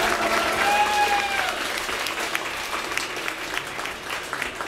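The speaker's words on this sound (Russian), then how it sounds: "Аплодисменты!" Audience applause at a comedy music performance fills the whole stretch, a dense steady clatter of many hands, loud at first and easing slightly, with a faint tonal sound early on.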